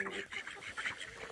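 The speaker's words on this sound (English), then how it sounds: "What do you think of it, ducks?" Ducks quacking outdoors in snow on a farm, a steady run of nasal calls close by, mixed with a voice talking to the animals.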